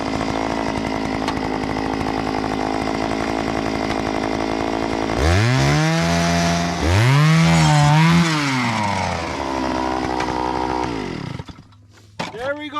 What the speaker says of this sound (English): We got our drill.